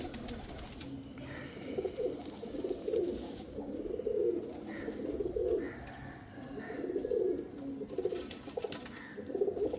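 Lal pari and teddy pigeons cooing together, a continuous chorus of overlapping soft coos close by, steady throughout with no talk.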